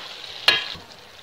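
Potatoes tumble into a pot of frying mixed vegetables, giving one short sharp burst of sizzle and clatter that fades into a low steady hiss, with no voices.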